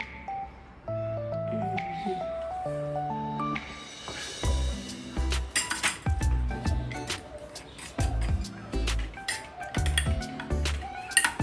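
A spoon clinks and rings against a glass while a mojito with mojito syrup is stirred, light metallic taps and pings scattered irregularly over a softer background of tonal music.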